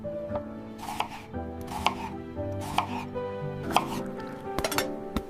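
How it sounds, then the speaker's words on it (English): Tomatoes are cut with a knife on a board while breakfast is cooked in a home kitchen, giving steady, evenly spaced chops about once a second, close and distinct over a faint background hum. "I'm cutting the tomatoes."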